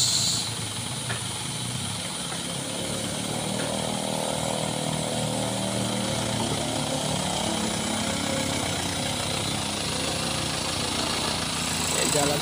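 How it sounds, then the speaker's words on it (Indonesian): A container-carrying tractor truck crawls along slowly, its engine producing a continuous loud, coarse rumbling drone with hissing texture for about twelve seconds, no pauses. "Begitu perlahan ini bosku. Truk Trado pembawa kontainer ini."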